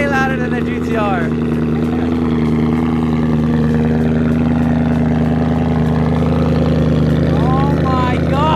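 A BMW E92 M3 V8 running with its exhaust valve closed, a loud steady low droning rumble with a few revving swells, heard from inside the car while people talk over it.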